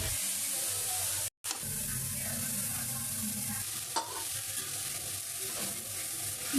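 Drumstick leaves hiss and sizzle in a hot frying pan while being stirred, a steady dense crackle broken by a brief silence and occasional scraping knocks, close and fairly quiet.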